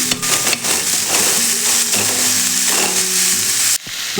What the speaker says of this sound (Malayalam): ഒരു 10 മിനിറ്റ് ഇങ്ങനെ ഇളക്കി കൊടുക്കണം.